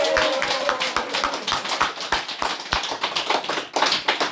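Scattered clapping from a small audience at a Buddhist service for Buddha's Birthday, distinct individual claps at an uneven rhythm, fairly close and moderate in volume.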